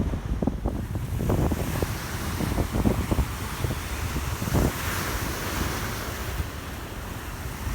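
Ocean surf rolls and crashes on a beach where a sailboat lies stranded, with gusty wind buffeting the microphone and several surging wave bursts.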